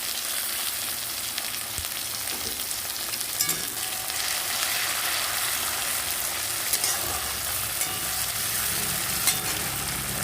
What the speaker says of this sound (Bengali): পেঁয়াজ রসুন পেঁয়াজ টমেটো এগুলো একসঙ্গে দিয়ে আমি একটু ভালো করে ভেজে নেবো